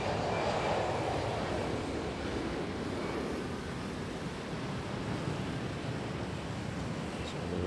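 An airliner takes off at a wet, rainy Manila International Airport, a broad roaring rush of jet noise mixed with rain and wind, steady and fairly distant, slowly fading.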